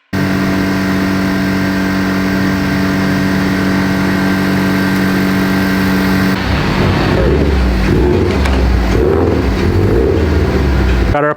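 A built Subaru STI on E85 fuel drones loudly with engine and road noise while driving, then shifts to a rougher, varying rev partway through, with no talk.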